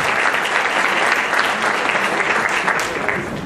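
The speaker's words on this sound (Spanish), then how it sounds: "Un aplauso para él." An audience applauds at the inauguration of an international Jewish book fair, a dense, steady wash of many hands clapping together, loud and close, which eases off slightly near the end.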